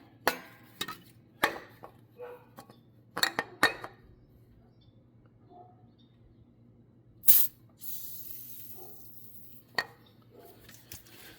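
Penetrating oil sprays onto a stuck fuel line fitting on a 1974 Ford F100 pickup: a clear close hiss at about 7.3 seconds, trailing into a longer softer spray, between scattered metallic clinks and taps from tools.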